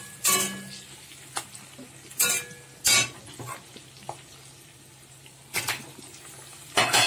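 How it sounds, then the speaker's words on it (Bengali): Onion and capsicum tossed in hot oil for a chili egg dish: a handful of sharp, close spatula scrapes and clanks against the pan, spaced irregularly over a faint, steady sizzle, with no one talking. "পেঁয়াজ ক্যাপসিকাম এটাও হালকা করে একটু তেলে নেড়ে দেবো"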